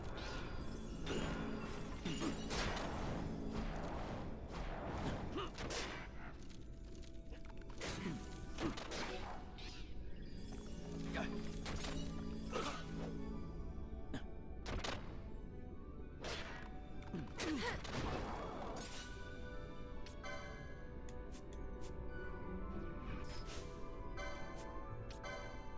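Balthier's gunshots in Final Fantasy XII: The Zodiac Age amid battle effects, a run of sharp cracks and impacts over game music, spaced irregularly through a long stretch of combat.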